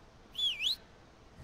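A single short two-note whistle, falling then rising, in the video game Far Cry 6, clear and fairly close against quiet background hiss with no talk.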